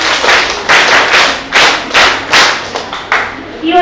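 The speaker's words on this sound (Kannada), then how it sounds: "ಎಲ್ಲರೂ ಸದಸ್ಯರು ಯೋಜನೆಯ ಚಪ್ಪಾಳೆಯನ್ನ ಹಾಕಿ ಈ ಒಂದು ಕಾರ್ಯಕ್ರಮಕ್ಕೆ ಚಾಲನೆ ನೀಡಬೇಕಾಗಿ ಕೇಳ್ಕೊಡ್ತೇನೆ" An audience claps to open a free health and eye check-up camp for a women's programme. The applause comes in several loud, rhythmic bursts, close by and with no talk over it.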